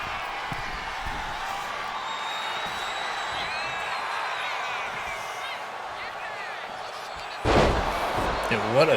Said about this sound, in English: And what a takedown there by Chris Douglas on Brody Daniels here.